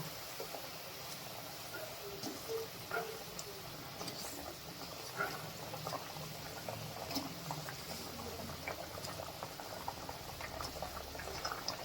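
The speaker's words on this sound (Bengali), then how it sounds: "গ্রেভি ফুটে উঠেছে, এবারে ধোকাগুলো দিয়ে দেব।" Gravy bubbling in a pot on the stove, a steady soft simmer with scattered pops and blips, fairly quiet and continuous.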